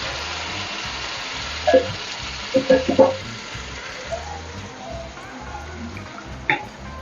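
Ground masala paste frying in a pan for a Hyderabad-style paneer gravy, a low steady sizzle with a few sharp spatters and stirring clicks, close and fairly quiet, with no talk.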